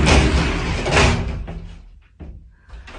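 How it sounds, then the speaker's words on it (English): A door opening in an elevator: a loud rumbling slide with a heavy thud near the start, then quieter mechanical clunks and a short final knock, close by, with no talk. "Open the door."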